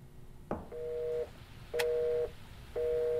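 Inside the horror video game They Are Here, a telephone busy signal repeats three times as evenly spaced, moderately loud beeps over a quiet hiss.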